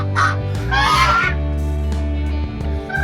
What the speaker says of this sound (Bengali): একটি ঘরের মধ্যে রাখা আছে 4টি বড় রাজহাঁস।